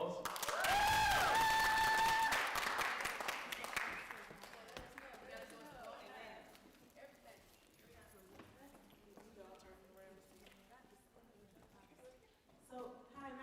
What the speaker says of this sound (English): Still a round of applause.